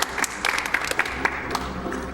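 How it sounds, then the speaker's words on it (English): Audience applause breaks out at a speedrun marathon event: a brief burst of scattered clapping with uneven sharp claps, short and fairly close. "That was not meant to be a real applause"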